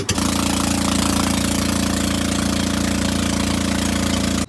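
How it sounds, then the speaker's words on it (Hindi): A 390 cc petrol motor boat engine catching and running at a steady, loud, throbbing idle, cutting off abruptly at the end. "ये कर दी बोट स्टार्ट।"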